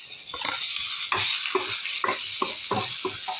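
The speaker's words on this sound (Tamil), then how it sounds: "உப்பு போட்டு நமக்கு தேவையான காரம் சாம்பார் பொடி போட்டு இல்லை தனி பொடி எது வேணாலும் போட்டு வதக்கிக்கலாம்" Onion and tomato sautéing with salt and sambar or chili powder in a pan for adai gravy, a steady sizzle broken by repeated close stirring scrapes at an uneven rhythm, with no voices.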